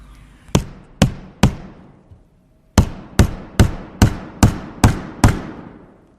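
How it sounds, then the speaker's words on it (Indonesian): Hammer strikes drive nails into a wooden rocking chair, ten sharp loud knocks close by, first three evenly spaced, a short pause with a faint tap, then a quicker steady run of seven blows. "pada saat dia sedang memaku sebuah kursi goyang, tangannya terkena palu dan paku itu"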